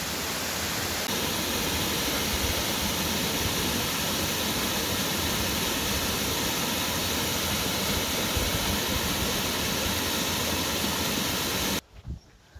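Waterfall on the Nant Gwernol woodland trail in Wales, near old quarry workings, pours in a loud, steady, close roar that holds unbroken for about twelve seconds, then cuts off abruptly, with no voices.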